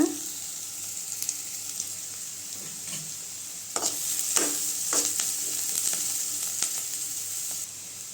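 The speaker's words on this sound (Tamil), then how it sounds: "வெங்காயம் நல்லா வதங்கட்டுங்க" Onions sautéing in oil in a pan for Tamil egg poriyal give a steady, close frying hiss, broken by intermittent scrapes and taps of a spatula stirring, with no voices.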